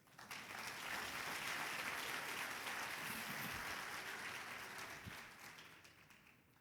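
A church congregation stands and gives a long round of applause, a steady wash of many hands clapping at moderate distance that swells, holds and slowly fades.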